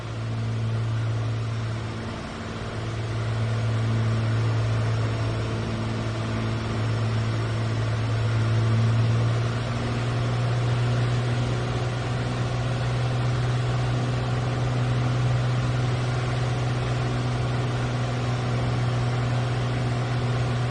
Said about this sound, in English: Heard a change in the engine there.